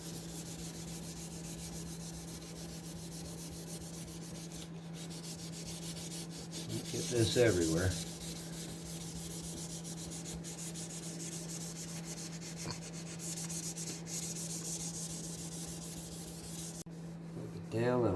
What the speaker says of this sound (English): Now we're going to give it a quick little wet sand with 1200.